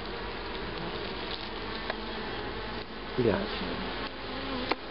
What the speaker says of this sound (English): Hey, bees.